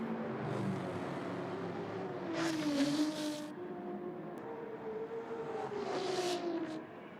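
An Aston Martin Vantage race car in Gran Turismo 7 drones steadily through a tight, technical midfield section of corners, its engine note rising and falling continuously and fairly loudly without pause.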